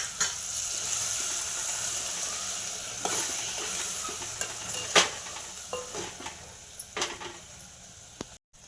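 A spoon stirs browned fried cashews and almonds into a pan of Haryana-style carrot halwa, soft scraping clinks and scattered taps over a low steady sizzle, close and fairly quiet with no talking.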